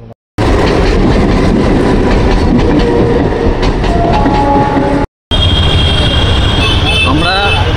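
A train rumbles past the closed Singur railway level crossing, its loud clattering wagons thundering continuously nearby with a steady, heavy roar and a brief cut midway.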